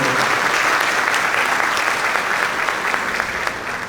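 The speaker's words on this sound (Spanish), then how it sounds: "Recibimos con fuertes aplausos a Antonio." An audience at a panel forum on family aggressors applauds to welcome a speaker, a dense, steady wash of clapping that fills the room and tapers slightly toward the end, with no voices over it.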